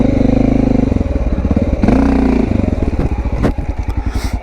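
A Honda XR650L single-cylinder dual-sport motorcycle is ridden over a log on a Blue Mountains trail. The engine thumps loud and close at low revs, with a brief rise in revs and a knock or clatter as the bike rolls over the log.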